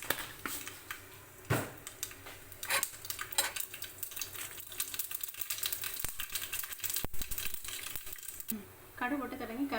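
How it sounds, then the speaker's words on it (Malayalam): Mustard seeds, a teaspoon dropped into hot oil while tempering a Kerala ginger curry, spluttering and popping in sharp irregular crackles with scattered clinks of pan and utensil, close and moderately loud. "കടുക് പൊട്ടി തുടങ്ങി"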